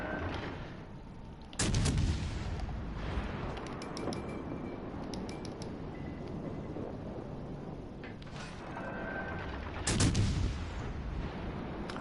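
Warship turret guns fire in World of Warships Legends: two heavy, booming salvos, one early and one late, each with a long rumbling tail, over steady mechanical and ocean background noise and with no talking.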